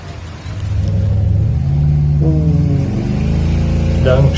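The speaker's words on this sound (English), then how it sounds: "Donk Chevy cruising the streets, clean." A Donk Chevy cruising the streets gives off a loud, steady low engine rumble that swells slightly as it moves, with a voice talking over the top partway through.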